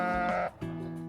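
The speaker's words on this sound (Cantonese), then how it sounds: "嗰度係隻羊 BB。" A young lamb at a UK zoo or animal park bleats twice, close and fairly loud. The first call is longer and wavering, followed by a brief gap and a steadier second bleat, with no talk over it.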